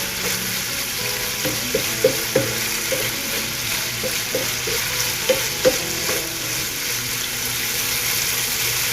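Pork fries in a pan with a loud, constant broadband sizzle while a utensil stirs it, giving irregular knocks and scrapes across the pan; nobody speaks.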